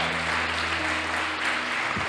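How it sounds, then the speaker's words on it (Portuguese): Congregation applause at a Brazilian church service, a steady dense wash of clapping filling the whole stretch at moderate level, with a low hum underneath. "Aplauda o Senhor por ele"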